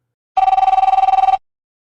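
A car phone in a limousine pulling up to a house rings in a rapid electronic trill, a dozen or more quick pulses in one continuous burst of about a second, loud and close with nothing else around it.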